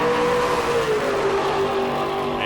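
A drag racing car roars at full throttle down the strip at a Sportsman Nationals event, loud and close, its engine note sliding as it pulls away, with no talk over it.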